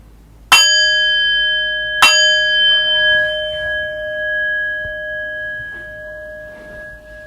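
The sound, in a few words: meditation bell rung twice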